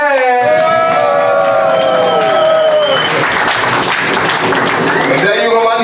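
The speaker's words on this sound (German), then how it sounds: "Also ein Applaus für Marman." A club crowd at a hip-hop gig in Wuppertal bursts into loud, dense clapping with whoops and cheering voices, holding steady and close for the whole stretch.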